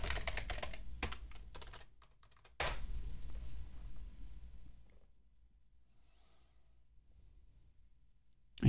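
A password is typed on a computer keyboard in quick, close bursts of key clicks, which then stop and leave near silence.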